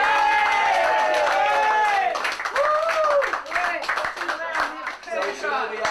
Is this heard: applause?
yes